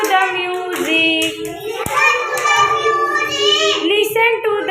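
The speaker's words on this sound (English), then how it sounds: "Clap your hands." Steady hand claps keep time with a bright sung children's song, the claps close and repeated under the music while children's voices chime in.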